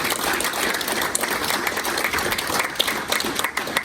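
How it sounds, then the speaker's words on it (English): Audience applause for campaign volunteers at a speech to a lodge in Ely, a steady wash of clapping held at an even level for about four seconds, with no voices standing out. "I want to give a big round of applause to the volunteers"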